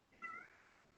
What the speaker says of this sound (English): And I hear a cat.